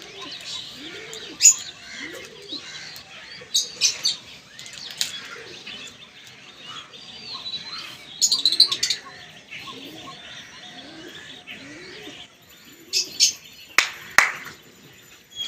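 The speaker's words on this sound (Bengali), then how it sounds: "পায়রা চলছে পায়রা তিনটে চলছে এই সাইডে" Racing pigeons at a flying tournament beat their wings in repeated bursts of close flapping, some loud and clustered, over a quiet background with faint repeated low cooing.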